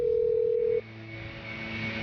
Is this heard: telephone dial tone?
yes